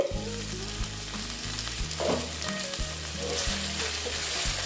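Pointed gourd with fennel sizzles and fries in a partly covered pan, a loud steady crackle from up close over a low rhythmic hum, with no talking.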